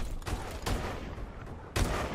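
Gunfire in a video game strikes the player: loud bursts of shots hit at about a quarter second, again near three quarters of a second and once more near the end, with rumbling noise continuing between them.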